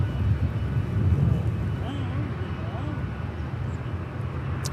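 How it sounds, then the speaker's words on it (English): A Delta Boeing 757-300 airliner at LAX rumbles as a low, steady engine roar beneath a voice talking throughout, with a faint whine drifting through the middle. "That is a Delta 757-300."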